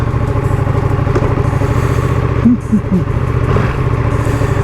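A Ducati Panigale V2 motorcycle engine runs steadily nearby with a low, rough idle-like drone, its throttle blipped briefly partway through.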